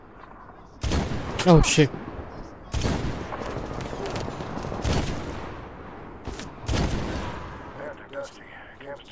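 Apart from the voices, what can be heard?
gunshots in Medal of Honor video game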